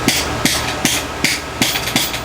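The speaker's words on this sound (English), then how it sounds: "We're gonna hit it with a socket to smack it, seat it a little bit" A socket is struck against an automotive upper control arm part resting on an anvil, likely during a Toyota Tacoma suspension rebuild: six sharp metallic hammer impacts at a steady rhythm, close and loud, with no talking.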